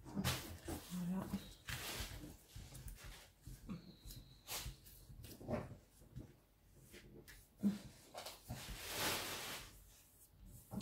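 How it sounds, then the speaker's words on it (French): A dog rolling on a carpet indoors: faint, irregular rustling and soft thumps with occasional snorts and breaths, close by, while a person talks quietly. "j'ai mon chien qui choisit toujours le moment des vidéos pour se rouler sur le tapis"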